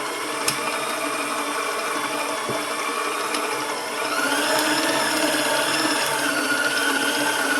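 An electric mixer whirs steadily as it beats apple muffin batter, a continuous loud motor drone whose pitch rises slightly partway through as the speed is increased.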